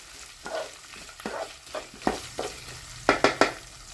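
Green chillies being stirred in a frying pan for star gooseberry pickle: a series of distinct scraping strokes of a spoon against the pan over a soft sizzle, getting sharper and quicker toward the end, with no talking.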